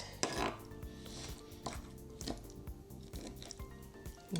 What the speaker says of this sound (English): I'm gonna put this on a cutting board, and I'm gonna take a little bit of time to chop it up very finely